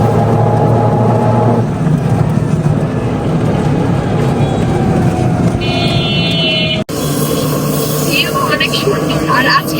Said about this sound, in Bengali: আমরা হচ্ছে অটোতে যাচ্ছি বাইক দিয়ে তো এখন যাওয়া সম্ভব না এজন্য অটো দিয়েই যাচ্ছি